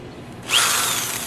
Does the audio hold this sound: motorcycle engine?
no